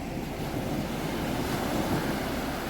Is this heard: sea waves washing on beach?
yes